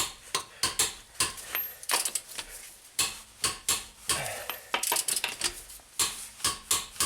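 Torque wrench tightening loose wheel nuts: repeated sharp ratcheting clicks in short bursts, close and fairly loud, with pauses between strokes and no talking.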